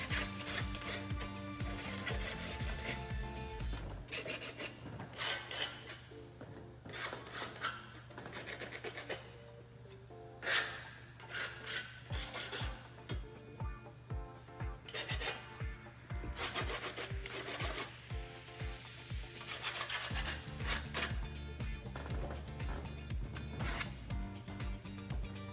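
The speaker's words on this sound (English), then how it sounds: "We clean the lumina part and remove burrs." Metal part of a St. Andrew's cross being filed and deburred, a rapid rasping scrape repeating steadily in close strokes, with a low hum beneath through the middle stretch.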